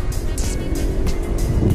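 A car engine is pushed to high RPM at speed on the road, a loud, steady, strained drone mixed with rushing wind and road noise from inside the cabin.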